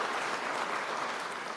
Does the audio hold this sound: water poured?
no